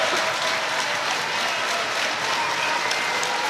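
A rugby stadium crowd on its feet applauding steadily at a women's England versus New Zealand semi-final, a dense, even wash of clapping with no breaks.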